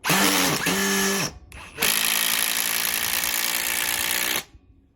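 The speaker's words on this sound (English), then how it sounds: "Here is the Ryobi with the 3 amp hour HP battery on speed 3." A Ryobi impact driver with a 3 amp hour HP battery, set to speed 3, drives a screw: a loud whirring burst with a short pause, then a longer sustained run of rapid impact hammering that stops abruptly, with no talking.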